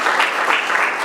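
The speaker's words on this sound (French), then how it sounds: "Alors on va applaudir pour nous-mêmes." Audience at a cultural forum in Lubumbashi breaks into applause, a full, dense patter of many hands clapping continuously and close for about a second.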